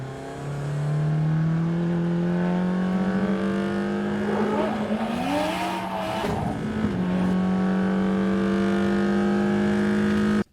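Layered car engine sound effects build into one continuous roar, with a steady low engine drone, a rising rev and tire-squeal sweep in the middle, then a return to a sustained loud hum.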